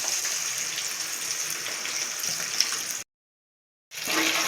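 Tamarind water is poured into a pan of fish curry, a steady splashing gush that cuts off abruptly, then resumes after a moment of silence.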